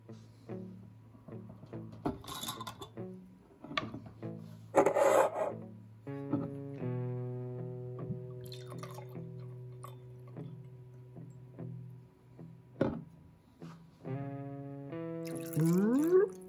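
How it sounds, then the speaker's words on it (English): Maker's Mark bourbon poured into a rocks glass full of ice: close crackling and trickling of liquid over ice cubes, with background music playing throughout. "let's pour it up into this rocks glass here full of ice"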